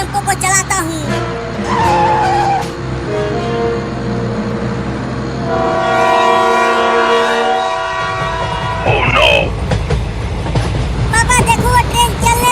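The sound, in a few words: train starting to move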